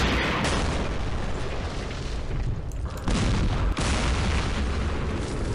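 Heavy explosions strike SU-100 tank destroyers and BTR-152 armored carriers in the wargame Campaign Series Middle East, loud and continuous booming with rumbling blasts and a couple of abrupt breaks.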